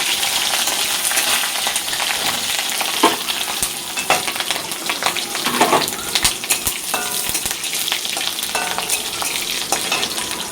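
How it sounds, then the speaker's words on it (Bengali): Dried red chillies, nigella seeds and green chillies sizzle in hot oil in a wok for tempering, a steady loud crackle with brief sharper pops and spits throughout, no voices. "এখানে শুকনো লঙ্কা কালো জিরা আর হচ্ছে কাঁচা লঙ্কা দিয়ে দেবো ফোড়নে।"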